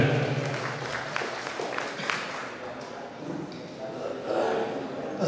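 Audience at an Urdu mushaira in Kolar claps to welcome a poet to the microphone, a steady wash of hand-clapping from a crowd with some murmuring, moderately loud throughout.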